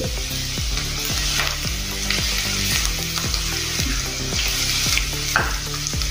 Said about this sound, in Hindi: इसको भी अच्छे से भूनेंगे।